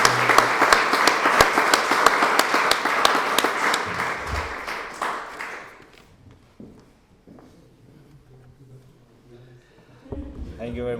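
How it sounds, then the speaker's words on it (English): Applause from an awards-evening audience at an aviation awards gala in Salzburg, loud and dense at first, then thinning out and fading within a few seconds, followed by quieter room noise, footsteps and a brief voice. "I think Costa needs an applause"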